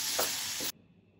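Grated raw mango sizzles and hisses as it roasts in a pan over a low flame, with a loud steady frying sound that cuts off abruptly after under a second.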